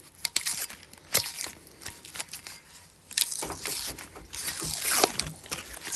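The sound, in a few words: peeling sublimation transfer paper off a tumbler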